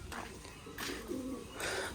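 Pigeons cooing in soft, low throaty phrases, three swelling bursts over a quiet, steady background, fairly faint and close.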